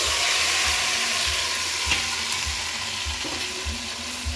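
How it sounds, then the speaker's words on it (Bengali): Marinated mutton for Champaran mutton hits a hot pot and sizzles loudly and steadily, with soft low thumps pulsing through the frying. "এখন আমি এই হাঁড়ির মধ্যে মটনটাকে খুব ভালো করে সুন্দর করে আস্তে আস্তে ছেড়ে দেবো"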